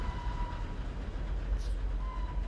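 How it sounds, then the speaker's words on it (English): A steady, heavy rumble of a train roaring past, loud and continuous, with faint tonal whines drifting in and out above the low roar. "a low, harsh murmur, growing steadily into a loud roar as a train dashed past us"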